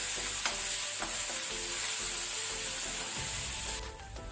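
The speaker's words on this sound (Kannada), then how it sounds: "ಸ್ವಲ್ಪ ಲೋ ಫ್ಲೇಮಲ್ಲಿ ನಾವು ಫ್ರೈ ಮಾಡಿಕೊಳ್ಳುವ" Cauliflower and green pea palya fries over a low flame, a steady close sizzle with soft periodic stirring scrapes, easing off in the final moment.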